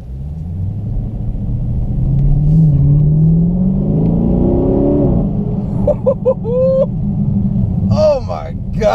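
A 2017 Dodge Challenger 392 Hemi Scat Pack Shaker V8 rumbles loud and close, with a long rising pull, then a string of quick sharp throttle blips and a final burst of revs.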